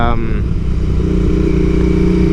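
A Royal Enfield Continental GT fitted with a TEC 2-into-1 exhaust runs close by, its engine note a steady, throbbing mid-range drone that holds level throughout, with a brief clatter at the start.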